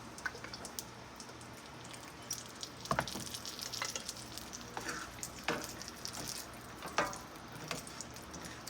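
Fish frying in grease in a pan gives a steady, low crackling sizzle throughout, broken by a few sharper pops and spits.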